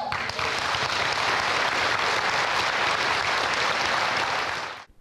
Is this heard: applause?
yes